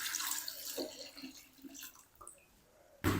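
Water splashes and pours into a karahi holding potatoes, with broken trickles and drips over about three seconds, ending in a sharp louder splash or clank near the close.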